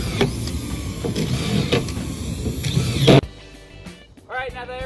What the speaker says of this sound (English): highly recommend for this project is this decking drill